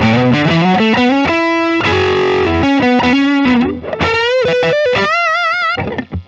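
A 2021 Fender Made in Japan Limited F-Hole Telecaster plays an aggressive distorted lead through its neck pickup, a loud run of sustained single notes and bends, close and alone, ending in a brief pause and final note.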